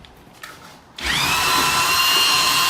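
A low-speed electric drill mixing lime plaster with sand kicks in after a second of quiet, then whirs steadily and loudly up close with a rising whine.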